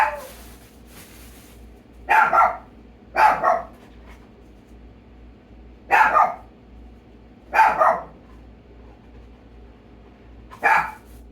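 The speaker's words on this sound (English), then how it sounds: "Chico, stop the barking, please" Chico the dog barks in five short bursts spaced a second or two apart, fairly close and loud over a quiet background hum.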